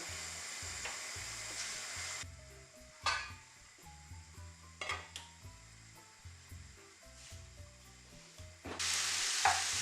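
Onions stewing soft in a pan on the stove, with a steady low sizzle broken by several scraping stirs of a utensil against the pan and a louder hiss near the end, over faint background music.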